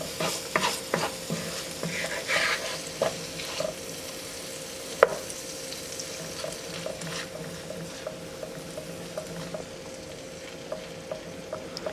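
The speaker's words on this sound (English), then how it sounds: "You want to melt the butter, so just keep stirring it around." Butter melts in a pan while being stirred, giving a faint steady sizzle with soft scraping strokes and occasional small clicks of the utensil, quiet and close, with no speech.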